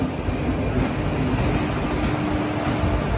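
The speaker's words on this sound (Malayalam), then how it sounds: "കറക്റ്റ് 12 മണിക്ക് തന്നെ ട്രെയിൻ എടുത്തിരിക്കുകയാണ്" Steady, loud rumble of the Kollam to Madurai Chennai Egmore Express running on the rails, with continuous wheel and carriage noise and a faint squealing tone throughout.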